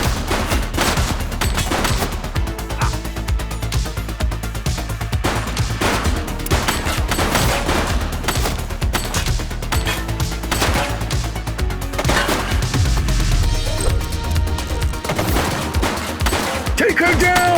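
A shooting suspect opens fire in the police video game The Precinct: repeated loud, close gunshots and bursts scattered across a long, busy stretch, mixed with other game effects and occasional voices.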